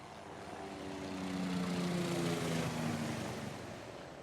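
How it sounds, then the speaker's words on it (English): A helicopter in a military video game passes overhead, its steady droning engine hum swelling louder toward the middle and then fading slightly, heard alone without talk. "Helicopter's coming, just keep our head down."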